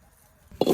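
Potatoes drop into a wok of oil on a village stove, landing as one short, close plop-and-thud after a quiet lead-in.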